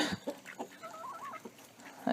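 Chickens clucking and squawking in short, uneven bursts, with a rooster's warbling call rising in the middle; fairly close, lively farmyard sound.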